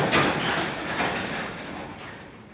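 An overhead garage door runs with a loud, steady mechanical rumble and rattle that fades slightly as it travels, with no talking over it.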